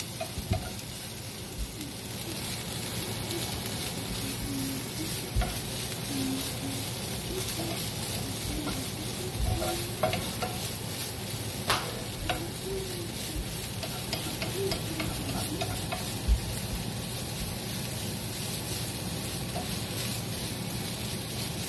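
Marlin a la Mexicana fries in a pan under a steady close sizzle, broken by repeated scraping and clacking of a spoon stirring the mixture around, with small bubbling pops throughout.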